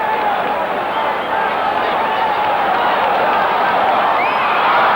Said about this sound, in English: And Iguaran, not surprisingly, wants to re-enter the fray. And he'll get a big cheer.